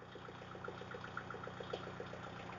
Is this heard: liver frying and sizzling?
no